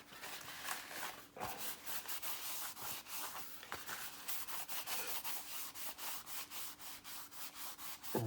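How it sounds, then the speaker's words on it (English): A paper towel rubs over a 1/48 scale Testors SR-71 plastic model kit after sanding and scribing, in quick repeated back-and-forth swipes, a close, dry scratchy rhythm that goes on steadily. "Take a paper towel."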